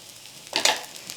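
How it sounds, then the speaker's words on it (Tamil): Oil poured around the edge of a pesarattu frying on a pan hits with a short, close burst of sizzle lasting about half a second, then fades to a faint hiss. "சுற்றி கொஞ்சம் எண்ணெய் விடுறேன்"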